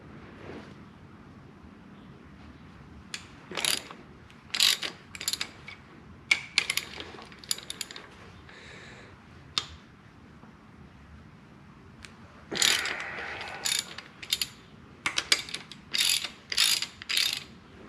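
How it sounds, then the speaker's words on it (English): Close ratchet wrench clicking in irregular bursts as connecting rod cap nuts come off the studs of a small block Chevy 350 engine during a teardown, with quiet pauses between runs. "Go ahead and take a rod cap off."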